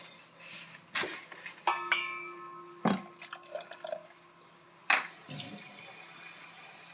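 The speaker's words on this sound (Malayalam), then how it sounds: "ഇതിലേക്ക് വെള്ളം ഒഴിച്ച് കൊടുക്കട്ടെ" Water is poured into a pot of fish curry in bursts. Several separate splashes and gushes each last a moment, with quieter dripping and trickling in between, all close and fairly loud against a quiet background.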